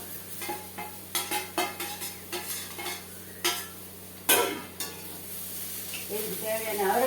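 Steamed broad beans are stir-fried in a pan with mustard seeds and urad dal, a steady oil sizzle under repeated close scraping strokes of a spoon against the pan.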